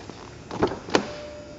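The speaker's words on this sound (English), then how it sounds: "Soft closed doors all the way around." Two soft thunks of the soft-close doors on a 2004 Mercedes-Benz S500 4MATIC sedan pulling shut, a muffled close followed by a second sharper latch, close by and alone.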